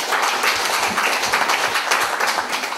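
A seminar audience at a history forum on unification policy claps for the first presenter, a steady wash of applause from many hands, fairly loud and continuous, with no voices.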